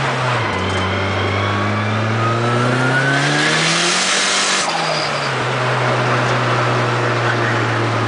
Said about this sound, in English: It's a S14 with a fully built K motor.